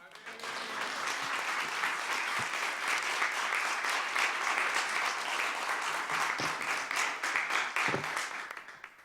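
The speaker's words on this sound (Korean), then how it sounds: "여러분 우리 간사님들 뵙지만 뜨거운 박수로 우리 환영해 주시면 감사하겠습니다" A church congregation at a Sunday morning service applauds to welcome staff members, with sustained, even clapping that fills the room at moderate volume and a few faint voices underneath.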